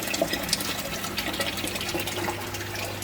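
Continuous gushing of water pumped into a tank, steady and close with a low hum underneath.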